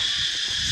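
Steady, high-pitched insect drone, loud and continuous, like cicadas or crickets buzzing without pause.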